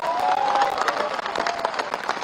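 A crowd claps steadily at a political rally, a dense and continuous wave of applause with a few cheers mixed in, sustained through the whole moment.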